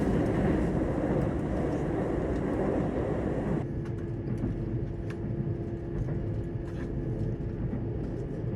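An E655 Nagomi train runs near Nebukawa station with a steady low rumble of wheels and cabin noise, loud at first and then easing to a quieter hum as the brighter upper noise drops away.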